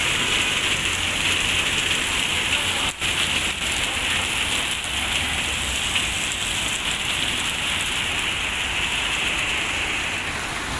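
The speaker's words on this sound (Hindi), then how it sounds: "और बारिश अब बहुत तेज़ हो गई है, बहुत ज़्यादा तेज़ हो गई है।" Heavy rain pouring down on a street in Italy, a steady loud wash of drops hitting the ground and surfaces, continuous and close with no speech.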